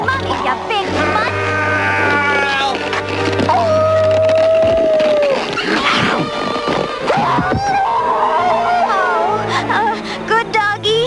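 A big cartoon dog howls and whimpers in a loud, busy animated soundtrack, with long drawn-out tones and whines mixed among music and other effects.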